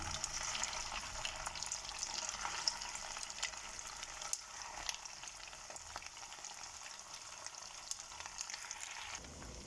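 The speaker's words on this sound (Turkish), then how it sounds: "Kızdırdığım yağ içerisine köftelerimi birer birer bırakıyorum." Köfte meatballs for Cypriot-style kıyma patties fry in heated vegetable oil, giving a continuous, fairly quiet crackling sizzle with scattered pops that cuts off abruptly near the end.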